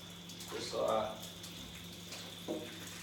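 Filtered spring water pours into a slow cooker to top it up, a soft trickle with a couple of brief louder splashes, faint under a constant background hum.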